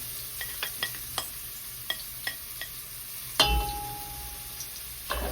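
Onion dropped into hot oil in a pan before basmati rice, first light clinks and taps, then a sudden loud sizzle that settles into steady frying hiss, with no voices.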